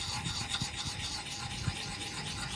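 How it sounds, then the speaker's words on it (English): Steady scraping and rasping of an axe bit being worked back and forth on the 250 grit side of a sharpening stone, close and continuous with small rhythmic bumps. "let's sharpen that bit"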